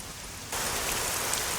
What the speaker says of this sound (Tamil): சரியா மழை பெஞ்சிட்டு இருக்கு.